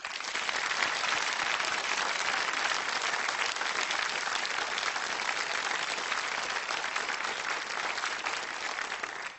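A television game show audience gives the Countdown finalists a long, even round of applause, steady dense clapping that carries on for over nine seconds at moderate level with no talk.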